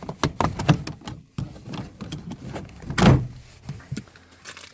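Plastic trim clips snapping loose as a screwdriver pries the rear door panel off a Chevy Tahoe, Suburban or Silverado, or a GMC Sierra. Scattered sharp clicks and scrapes lead to one louder crack near the end, close up, with no talking.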